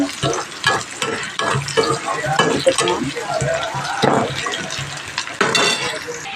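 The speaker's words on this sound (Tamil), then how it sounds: "கொஞ்சம் கருவேப்பிலை போட்டு கொஞ்சம் வெங்காயத்தை பொன்னிறமாக வதக்கிக்குவோம் நல்லா கிண்டி" Onions and curry leaves sauté in a pan for carrot poriyal, stirred continuously. A moderate sizzle runs under repeated scraping and shifting of the spoon, and a voice is faintly present.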